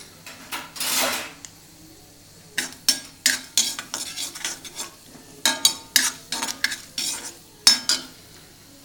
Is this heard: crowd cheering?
no